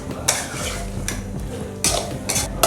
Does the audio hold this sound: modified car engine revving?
no